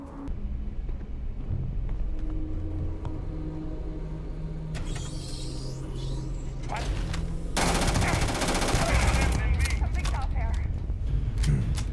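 Bursts of automatic gunfire in a shooter video game, including rapid machine-gun fusillades that grow louder and denser in the second half, mixed with vehicle noise and under people chatting.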